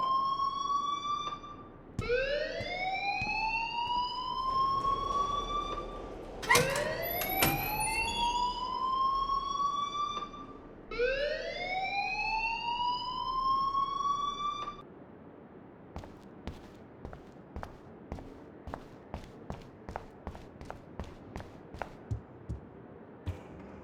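A loud electronic alarm in the game Life Is Strange wails in repeated rising sweeps for about fifteen seconds, then cuts out and leaves a string of faint, sharp clicks.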